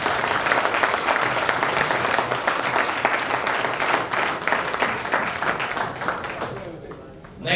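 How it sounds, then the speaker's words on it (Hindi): Audience applause at an Indian product presentation for a water ionizer, a dense, steady wash of clapping from a sizeable crowd that carries on for several seconds before tapering off. "तालियां हो जाए एक बार"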